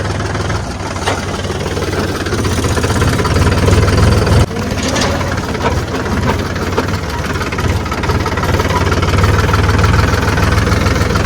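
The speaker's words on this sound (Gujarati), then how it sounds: "ટ્રેક્ટર પર ખાતર લઈ લીધું છે અને અત્યારે ખેતરમાં લઈ જઈ રહ્યા છે" A tractor hauling fertilizer to a sugarcane field, its diesel engine loud and close in a continuous rough idle-like rumble with a steady knocking pulse and a brief dip midway.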